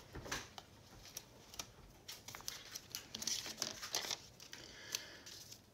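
Scissors snip through a small paper bag for a junk journal tag pocket, giving soft, quiet crinkles and irregular little clicks and rustles close by.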